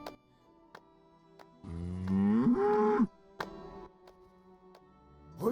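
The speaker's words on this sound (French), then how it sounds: "Tiens, voilà notre championne de vache." A cow in The Witcher video game gives one long, loud low moo that rises and falls in pitch. Faint clicks and ambient game sounds surround it, and nobody speaks.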